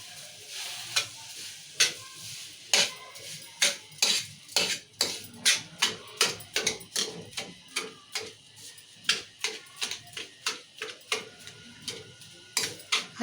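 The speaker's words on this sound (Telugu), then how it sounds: "ఇప్పుడు కలుపుకుందాము" A spoon scrapes and clinks rhythmically against a metal pot while sugar is stirred into milk for kalakand, dozens of sharp close strokes in a steady pattern with no talking.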